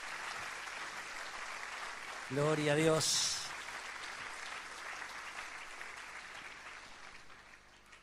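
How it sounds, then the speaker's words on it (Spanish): Church congregation applauding in steady broadband clapping that runs throughout, with a brief spoken and sung exclamation rising above it midway before the applause continues and slowly fades. "¿Quiere darle un aplauso al Señor?"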